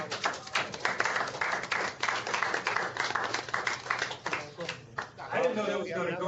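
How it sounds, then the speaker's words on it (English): Scattered audience clapping at a live pro football fan event, moderately loud and uneven, with a person talking over much of it before it swells briefly near the end. "I didn't know that was going to garner any applause."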